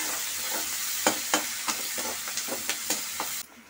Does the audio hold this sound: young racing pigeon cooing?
no